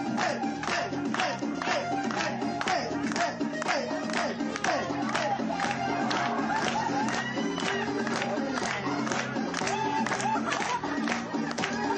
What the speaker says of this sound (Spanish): Vamos a aplaudirle, por favor.